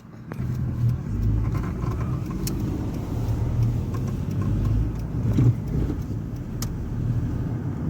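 Cars drive past steadily on a road, a continuous engine rumble and tyre roar that swells gently as vehicles go by, close and fairly loud with no talking.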